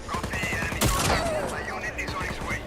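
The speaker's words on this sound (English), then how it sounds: "And satisfying shooting people in the head." Gunfire in the action game Just Cause 4, a burst of shots with a sharp loud blast near the middle, set amid game effects and someone talking over it.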